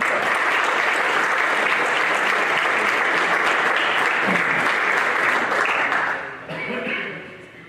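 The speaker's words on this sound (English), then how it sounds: "let's make sure we give them a round of applause" A large crowd at a Pro Football Hall of Fame ceremony in Canton, Ohio, applauds loudly and steadily, the clapping thinning and fading toward the end.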